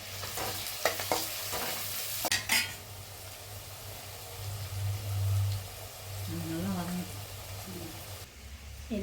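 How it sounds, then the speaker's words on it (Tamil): Onions sauté in a pan with cloves and cinnamon sticks, producing a soft sizzle with occasional stirring scrapes over a low hum, and a brief voice murmurs near the end. "வெங்காயம் போட்டுக்கலாம். அதை நல்லா வதங்கிட்டோம்."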